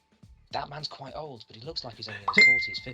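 Phone notification chime, a single short high tone ringing out over someone talking conversationally, close and moderately loud.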